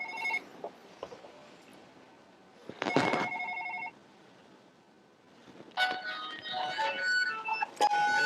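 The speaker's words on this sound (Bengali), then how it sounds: "আবার কল আসছে ওতে" A phone rings with an incoming call, giving short bursts of electronic ringtone, one near the middle and a longer, busier stretch toward the end, fairly close with faint background noise between the rings.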